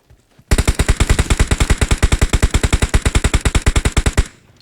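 Loud, rapid automatic gunfire from PUBG Mobile played on PC rattles off in one continuous burst of evenly spaced shots lasting close to four seconds, close up with no talk over it.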